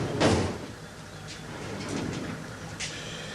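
A large map drawer slides open with a short rumbling scrape and a thump, followed by fainter sliding and rattling from the drawer, close and fairly loud.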